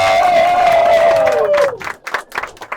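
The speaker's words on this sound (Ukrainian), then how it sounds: "хто з наших наречених найбільше заслуговує на аплодисменти" Guests at a wedding applaud and cheer for the groom. A loud, drawn-out vocal shout fades into a burst of clapping and crowd noise.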